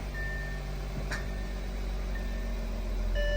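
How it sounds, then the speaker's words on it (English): A steady low rumble from an Audi A6 3.0 TDI diesel engine, just after an injector was installed, idles, broken by a single sharp pop about a second in. "It's a weird popping noise"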